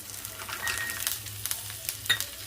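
Chopped onion, roasted gram, cumin and curry leaves frying in oil for a chutney, giving a steady soft sizzle with stirring scrapes and small crackles, close and fairly quiet with no voices.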